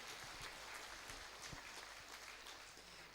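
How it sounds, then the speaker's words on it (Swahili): Church congregation applauding during a cultural Sunday service, a steady broadband clatter of many hands clapping throughout at moderate level with no talk over it. "Tuwapigie makofi mazuri kushinda hayo jameni."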